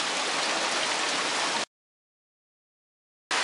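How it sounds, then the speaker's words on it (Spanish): Water pouring and splashing during heavy rain, a dense steady rush that cuts off abruptly into silence for over a second, then resumes just as strongly at the end. "El agua caer."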